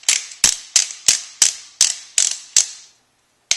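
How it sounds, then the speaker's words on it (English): Magazine cap being turned onto a Remington 870 shotgun: a quick series of eight sharp metallic ratcheting clicks, evenly spaced and close, followed by a pause and one final click. "Put the barrel back on, and then the magazine cap just screws back on."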